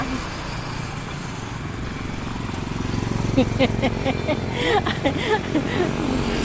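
A motorcycle passes on a highway toward Pagadian near a family home, its engine whine rising and falling over steady traffic rumble, with people talking alongside.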